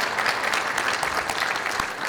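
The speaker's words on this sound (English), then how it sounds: "Give her a huge round of applause" Steady applause from an audience at a high school National Honor Society induction ceremony, a dense, even wash of clapping that continues without a break throughout.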